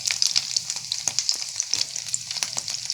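Shrimp okoy fritters with tiny fine shrimp on their second frying, a steady bright sizzle of hot oil with crackling pops throughout, close and continuous, with no talk.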